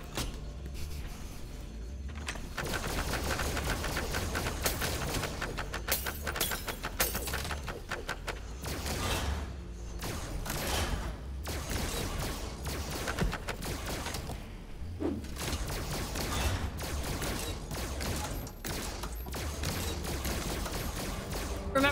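Sustained gunfire from shooting targets on security cameras in the VR horror game FNAF: Help Wanted 2, a dense, steady barrage of rapid shots that fills the whole stretch at a constant loud level, with clattering impacts mixed in.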